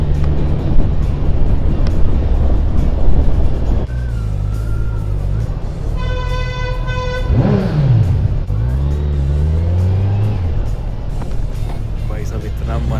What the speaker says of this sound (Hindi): आवाज़ सुनो, इतनी स्मूथ आवाज़ है ना इस बाइक की यार